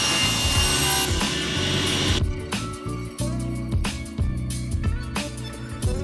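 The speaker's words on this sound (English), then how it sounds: "we're going to go to the table saw and rip to the proper height" A table saw rips barn wood to height for a mantle, a dense whining cut at first, then rough rasping bursts as the blade chews through the old boards.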